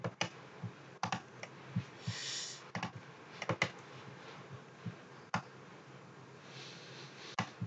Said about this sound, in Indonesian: Kita zoom dulu dengan klik kiri, kalau zoom out klik kanan.